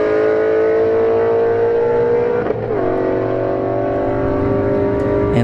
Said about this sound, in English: Our A90 Supra right now. Shelby GT350 here in the left lane.